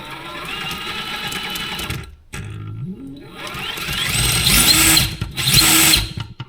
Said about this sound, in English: Can you see that motor spinning and spinning and spinning and these wheels aren't even barely moving?